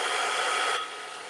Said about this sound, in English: I'm going to turn my blow dryer on for 1 second.